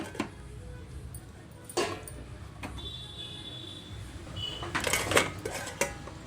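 A lid set on a pot of ragi mudde on the stove, with several sharp metallic clinks and clatters of cookware over quiet background, no talking.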